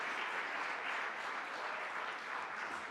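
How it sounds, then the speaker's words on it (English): Sustained applause from an audience at a Nottingham Citizens community meeting, dense and steady hand clapping filling the whole stretch with no voices over it. "One final round of applause."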